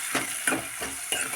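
Curry leaves frying in hot oil in a pan for a cluster bean and tomato curry, giving a steady close sizzle broken by several rhythmic stirring scrapes, with no voices.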